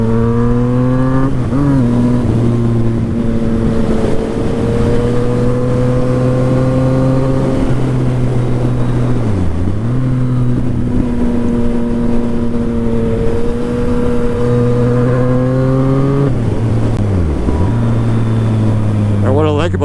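Yamaha FZ09 motorcycle engine while riding, a steady loud drone whose pitch holds, dips briefly as gears change, then climbs again, continuous and close with wind rush throughout.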